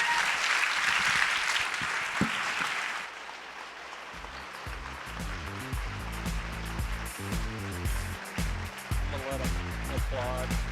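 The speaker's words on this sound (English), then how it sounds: "I'm gonna let them applaud for a minute for it." A leadership summit audience applauds in a broad, dense wash of clapping that fades after a few seconds, giving way to softer, scattered sound with faint talk underneath.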